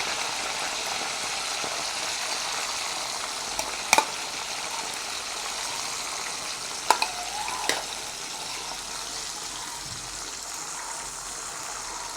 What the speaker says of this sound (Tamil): எண்ணெய் வந்து எங்களுக்கு சூடாகிட்டு நாங்கள் போஞ்சிக்காயை பொரிய போட்டுக்கொள்வோம்